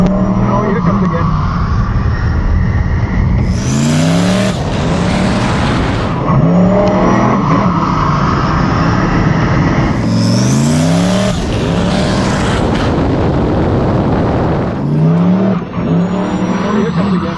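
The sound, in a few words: drag race car making a pass down the track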